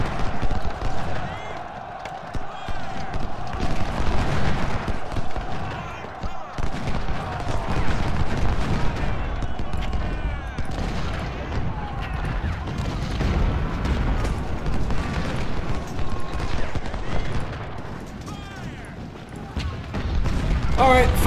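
Cannon and musket fire from a Civil War battle at Chancellorsville in the strategy game Ultimate General: Civil War, a dense, continuous din of booms and crackling volleys with someone talking over it.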